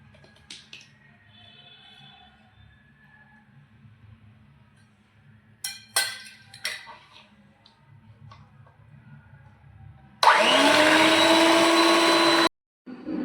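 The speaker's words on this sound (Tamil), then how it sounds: "இப்போ வந்து நம்ம எல்லோ விட்டு பீட் பண்ணிக்கலாம்." An electric mixer beats egg yolks for a rose milk sponge cake, starting abruptly after some quiet clinks and kitchen handling, then whirring loud and steady for about two seconds before cutting off.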